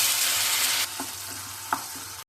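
Tomatoes frying in a pan, a bright sizzle that drops away sharply partway through, followed by a few soft scraping stirs close by.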